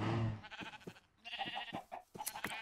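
Sheep bleating in Minecraft, several short wavering calls one after another with brief gaps, close and fairly loud against a quiet background.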